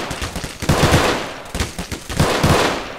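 Rapid gunfire in a French video game, bursts of automatic shots in two clustered volleys, loud and close, with no talk over it.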